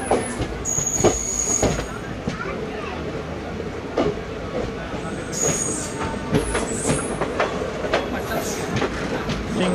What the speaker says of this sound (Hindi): धनबाद सिंगरौली एक्सप्रेस